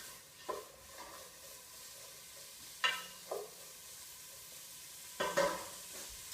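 Ginger, garlic and onion sautéing in a pan, a low steady sizzle broken by a few sharp clatters of a utensil stirring, spaced out and fairly quiet.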